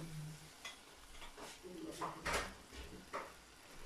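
Eggs cracked one by one into a pan over mashed dates, cooking on low heat for breakfast: a quiet sizzle with a few scrapes and knocks of a utensil against the pan, fairly faint.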